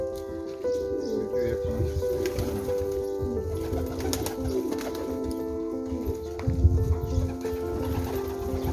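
Bursa pigeons coo softly and repeatedly in a steady background hum, with low murmuring voices and occasional rustling nearby.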